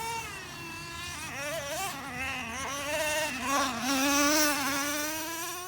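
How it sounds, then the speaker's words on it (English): A Traxxas Revo 3.3 nitro RC truck runs at full throttle, its small engine giving a high, buzzing whine that rises and falls in pitch as it speeds around, loud and continuous throughout. "I'm going to bring the truck in and cut the fuel supply to disengage the engine"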